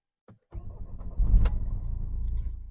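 Mercedes-Benz W203 with a manual gearbox starting up: a brief click, then the engine catches and settles into a steady, fairly loud idle close by.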